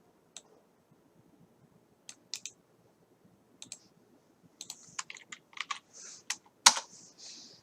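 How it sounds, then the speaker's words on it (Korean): Computer keyboard typing, sparse single key clicks at first, then a quicker run of keystrokes ending in a sharp, louder press of the Enter key, close and crisp in a quiet room. "저는 엔터를 해볼게요"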